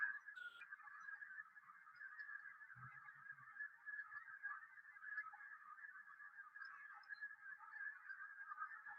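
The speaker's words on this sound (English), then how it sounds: "Those are all cranes in the air." Sandhill cranes call in flight over the Platte River, a continuous chorus of distant rolling, bugling calls that stays faint and even throughout.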